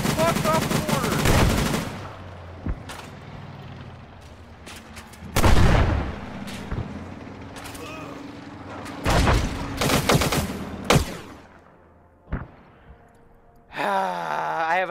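Arma 3 battlefield with bursts of rifle and machine-gun fire and heavy artillery blasts, loud and irregular, with shouted voices between the shots.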